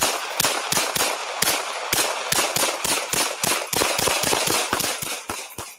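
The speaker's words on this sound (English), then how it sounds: "a volley of gunfire erupted" A long volley of gunfire from police after a rollover crash cracks out as rapid, loud shots in irregular bursts, some spaced apart and others in quick succession, for several seconds.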